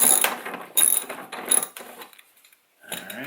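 A ratchet loosens 10mm bolts on a 2017 Yamaha Grizzly 700 ATV with a few short bursts of close metallic clicking, separated by brief pauses and a moment of near silence.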